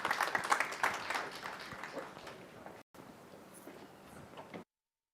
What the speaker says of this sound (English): Please give him a warm round of applause as he stands up